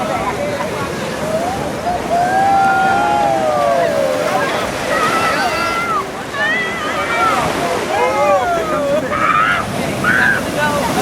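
Ocean surf washing onto a beach in Ghana during a beach gathering, a steady close roar of breaking waves with wind buffeting the microphone, under continuous excited voices and shouting throughout.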